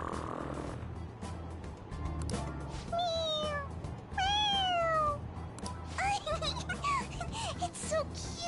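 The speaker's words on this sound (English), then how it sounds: "It meows when you press on its head." A toy cat gives several short, bright meows when pressed on its head, with a pause between each. It sounds close up, and people chatter and react excitedly around it inside a moving train.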